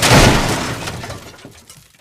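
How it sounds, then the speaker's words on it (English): A car crash: a loud crash of shattering glass bursts out at once, then fragments tinkle and scatter as the noise fades over two seconds. "The sound of metal bending, glass shattering"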